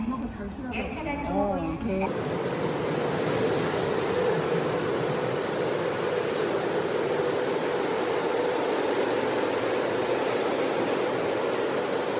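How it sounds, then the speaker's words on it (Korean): A train bound for Chuncheon arrives at the station with a loud, steady broadband rumble that builds after a brief moment of talk and holds for many seconds. "와, 춘천행 기차 왔다."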